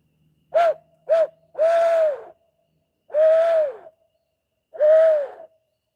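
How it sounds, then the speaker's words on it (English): Five owl hoots in a row, two short ones and then three longer drawn-out calls spaced a second or more apart, clear and fairly close. "let's give the owls a couple more hoots"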